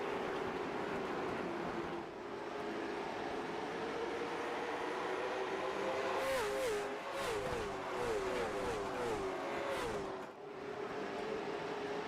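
Late-model stock cars race around the Kern County track, a continuous loud roar of engines accelerating and shifting, with pitch rising and falling as cars pass at mid distance.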